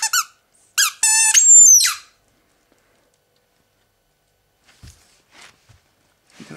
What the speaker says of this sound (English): It's a squeaky ball.